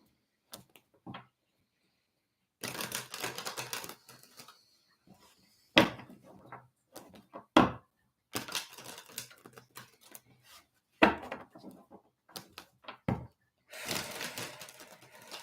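A deck of tarot cards is shuffled up close during a psychic reading, making several separate bursts of riffling and slapping with short silent gaps between them.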